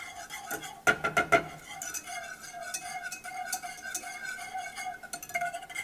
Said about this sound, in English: I'm just going to give this a good whisk